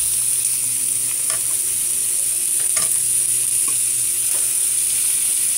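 Chicken pieces sizzle steadily in a hot pot while cooking chicken mami soup, a constant bright hiss with a few faint clinks and scrapes, no voices.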